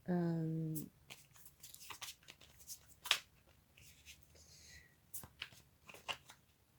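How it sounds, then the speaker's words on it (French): A tarot card is drawn and slid from a shuffled deck, making soft papery swishes and small flicks. A voice hums briefly at the start, and quiet card handling continues underneath. "Je vais tirer une dernière carte"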